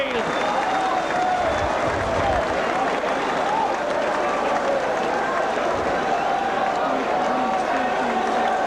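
Rugby league crowd at a St Helens versus Wakefield John Player Trophy match cheering and clapping after a Saints try, a broad, steady roar filling the stadium, with commentary talk running over it.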